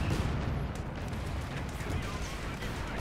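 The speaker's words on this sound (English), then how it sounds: "Oh my god, that was a good fragmentation bomb." A fragmentation bomb goes off in the World War II strategy game Company of Heroes 2, heard as a dense, continuous roar of blasts and battle noise at steady loudness throughout, with no single sharp boom standing out.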